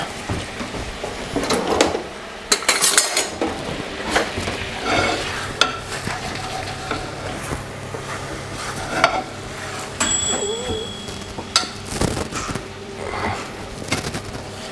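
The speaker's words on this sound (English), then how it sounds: "this liquid, we can just cook it down until it's a nice syrup" Liquid reducing to a syrup in a pan, a soft steady sizzle and bubble beneath frequent utensil stirring, scraping and clinks of cookware, close by, with occasional kitchen knocks.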